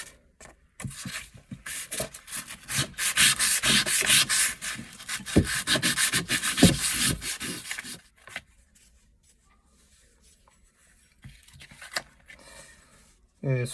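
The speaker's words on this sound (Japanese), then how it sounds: "耐水ペーパーはちょっと滑りますので小さく" A rusty kitchen knife is sanded by hand with waterproof sandpaper, producing quick rhythmic rasping strokes for several seconds, then quiet with a few brief rubs near the end.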